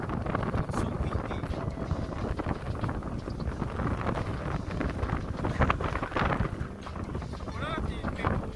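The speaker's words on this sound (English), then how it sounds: "It's so windy." Heavy wind at Pirita Beach in Tallinn buffets the microphone with a steady low roar and gusty rumble, loud and continuous, without a break.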